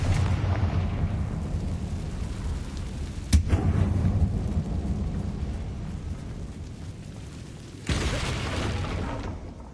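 A Confringo spell blast in Hogwarts Legacy inside a closed mine resembling a tomb, a sharp cracking impact followed by a long rumbling roar, then a second loud burst of rushing, crackling noise.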